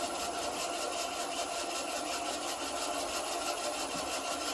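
A half-inch bowl gouge cuts a spalted, winged beech or sycamore bowl spinning on a wood lathe, giving a continuous close scraping rasp with a steady rhythmic pulse from the rotating blank.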